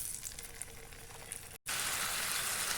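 Pointed gourd pieces frying in oil in a pan, a steady hiss and crackle that cuts out briefly, then returns louder and denser as a bright continuous sizzle.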